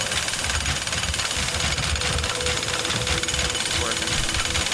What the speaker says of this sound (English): I hate that I'm having to do this all with a jackhammer right now